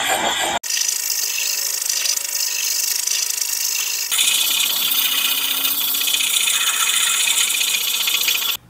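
A new axe is sharpened on the coarse side of a stone, producing a loud, continuous gritty rasping scrape with a brief pause near the start and steady strokes throughout, no talking over it.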